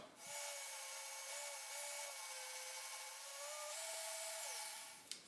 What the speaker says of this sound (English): I'll use a sander for this bandsaw cut